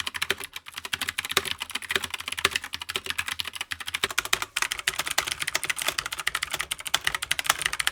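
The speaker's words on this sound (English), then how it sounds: "here's a quick sound comparison between genuine switches and these knockoff ones." Fast, steady typing on a PICTEK PC244B mechanical gaming keyboard with knockoff switches, dense clacking keystrokes close up with no talk.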